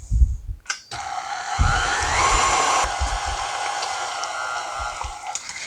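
A mixer runs steadily through cheesecake filling with powdered sugar for a no-bake zebra cake, its motor whirring loud and continuous after a brief start with a few low bumps.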